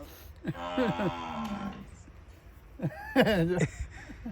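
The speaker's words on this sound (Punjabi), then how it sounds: "ਮੱਝਾਂ ਵਾਜਾਂ ਮਾਰਨ ਡੀਆਂ" Two long, deep moos from water buffaloes, one after the other, over a low background hum.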